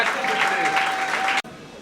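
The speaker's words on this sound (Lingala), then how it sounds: "On peut acclamer très fort" A wedding audience claps and cheers in a dense, loud wash of applause that cuts off abruptly after about a second and a half.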